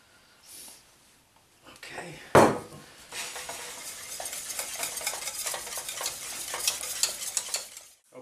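Chocolate coconut pudding filling cooking over medium heat in a pot, stirred steadily with a utensil scraping the pan, a continuous close sizzle and scrape after a sharp clank near the start.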